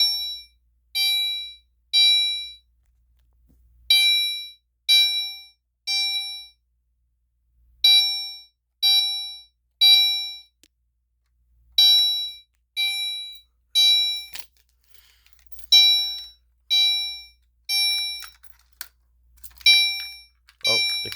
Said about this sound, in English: I set the fire alarm to code 3 chime